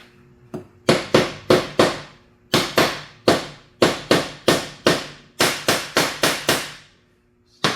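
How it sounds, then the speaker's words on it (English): A brass mallet taps parts into the gearbox housing of a Snapper 4/22 snowblower, about sixteen sharp, ringing metallic strikes, close and loud, coming in quick clusters with short pauses between them. "when I put these in, I use a brass mallet to do this."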